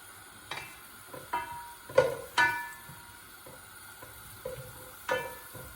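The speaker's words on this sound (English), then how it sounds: "I'm going to put a chunk of butter" A chunk of butter sizzles softly in a hot pan on a burner, with a quiet, close crackle broken by several sharper taps and spits.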